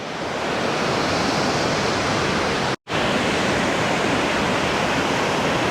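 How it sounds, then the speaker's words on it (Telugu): Valara waterfall roars as a dense, constant rush of falling water, loud and close, with one brief break in the middle. "ఇప్పుడు మనం వలరా వాటర్ ఫాల్స్ దగ్గర ఉన్నాం"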